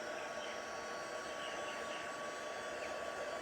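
A hair dryer blows steadily on a wet handmade Stampin' Up! Christmas wreath card, a continuous even airy whoosh with a faint tonal whine, close and alone for the whole stretch.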